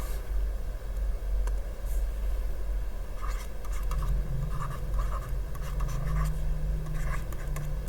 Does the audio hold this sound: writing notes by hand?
yes